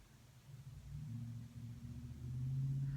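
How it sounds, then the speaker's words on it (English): Traffic rumbling past on a main road, a steady low drone of cars that swells and grows louder toward the end, with no voices over it. "I am right on the main road, so you can probably hear the cars driving by"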